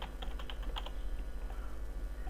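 Someone types a search on a computer keyboard, a quick run of soft key clicks that taps out and then fades under a steady low hum and room noise.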